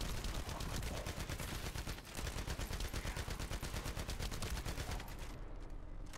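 Rapid automatic gunfire in The First Descendant shooter game, a sustained burst of evenly spaced shots that briefly pauses near the two-second mark and then resumes before ending.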